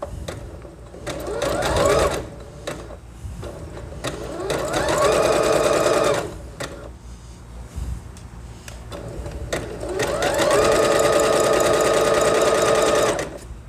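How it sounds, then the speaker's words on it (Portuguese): A domestic sewing machine stitches elastic onto fabric in three long running bursts of rapid mechanical whirring, each separated by short pauses of quieter handling noise, close and fairly loud with no talking. "Segura firme e começa a costurar."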